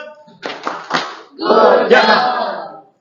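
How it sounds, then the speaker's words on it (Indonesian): A classroom of students does a patterned group clap with a shouted chant, a few sharp claps followed by a loud burst of voices in unison, close and energetic. "Oke, satu kali tepuk good job."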